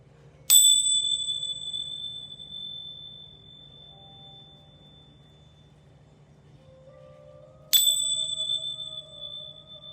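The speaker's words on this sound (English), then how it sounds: "I'm going to do these bells 3 times." Two bright bell strikes ring out, one right at the start and another near the end, each leaving a clear tone that decays slowly over a low steady hum, with no talking.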